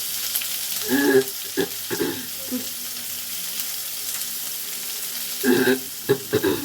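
Chopped garlic sizzling in a pan, with a soft frying hiss under several bursts of scraping as a utensil stirs it, close and without talk.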